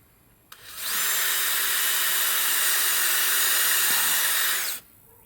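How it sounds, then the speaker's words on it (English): A power drill, held at an angle, bores into a wooden roof rafter. It kicks on with a click, runs a loud, steady high whine for about four seconds, then cuts off abruptly. "Then I'm going to angle my drill like so."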